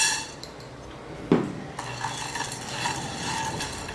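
Urad dal frying in a hot pan, a steady bright crackling sizzle with scraping and utensil clinks against the pan, a sharper knock partway through, no voices.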